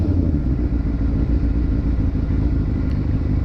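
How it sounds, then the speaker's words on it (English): A Benelli 600i motorcycle idles while warming up, its exhaust giving a loud, close, continuous low rumble with a steady mechanical throb and no pauses. "I'm just going to wait for the bike to warm up and just hear the sound of the exhaust"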